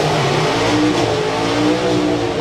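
A drag racing car accelerates hard off the line, its loud engine holding a steady, full-throttle roar with strong low harmonics from start to finish and no talk over it.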